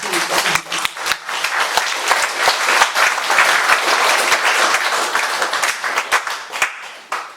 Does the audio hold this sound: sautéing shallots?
no